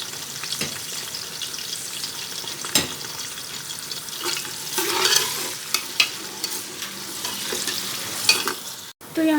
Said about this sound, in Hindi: प्याज़ों को गोल्डन फ्राई कर लेंगे।